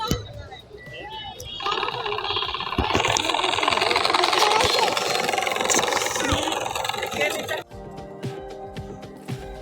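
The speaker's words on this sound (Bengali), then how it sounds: "আমাদের এই পারাপথ 18-র যে সাউন্ড ওইটা কিন্তু একদম অরিজিনাল লঞ্চের মতো" Motor of the Parabat-18, a remote-control model river launch, running steadily on a river trial, with a broad buzzing drone through most of the stretch and a lighter rattle near the end.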